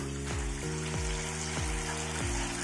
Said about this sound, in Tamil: இப்போ நம்ம சிக்கன் பீஸை போடலாம்.